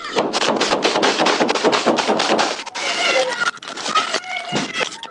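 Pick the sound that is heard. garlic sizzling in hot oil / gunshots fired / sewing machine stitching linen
gunshots fired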